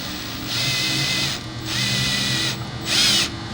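A power drill turns a 10-24 tap slowly and gently, its steady whirring motor running in three separate bursts with short pauses between.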